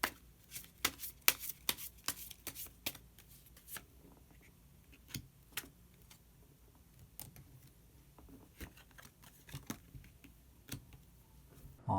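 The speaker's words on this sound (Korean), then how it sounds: "마지막으로 히든 카드 한 장 더 뽑아보도록 하겠습니다" Tarot cards are shuffled and drawn for a monthly fortune reading, giving a run of quick, close paper flicks and snaps, denser at first and then scattered, quiet against a hushed room.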